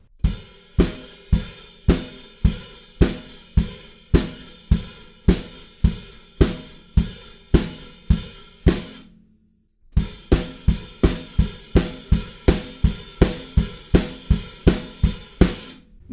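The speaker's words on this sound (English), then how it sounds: "The next part of the verse, we're going to add kicks four on the floor," Rock drum kit verse beat from a song, with a four-on-the-floor kick under snare and cymbals; loud, steady and driving, a brief gap near the middle, then the groove resumes, no voices.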